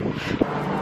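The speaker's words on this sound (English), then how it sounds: "A little windy." Wind gusts outdoors on a drizzly day, rumbling steadily against the microphone in a brief burst.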